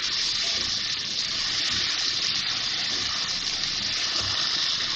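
Water pouring steadily into a pan of softening tomatoes while cooking dal makhani, a continuous close gushing splash that holds even and loud throughout without pause.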